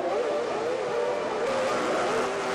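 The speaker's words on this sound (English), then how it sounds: "Engine notes rising." Formula One race car engines at a race start: several engines blend into a loud, sustained, wavering whine that climbs slightly in pitch and holds steady throughout, with no voices.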